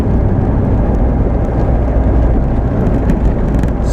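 A 1979 VW Rabbit cruising in fifth gear, with a steady, loud engine drone and road rumble running unbroken from start to finish, no voices.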